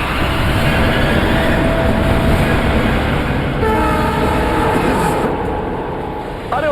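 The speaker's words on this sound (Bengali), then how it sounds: "ট্রেন কিন্তু খুব স্পিডে চলছে।" Fast-moving train passing close by, a loud continuous rumble and rattle of wagons with a sustained horn blaring over it, fading slightly toward the end.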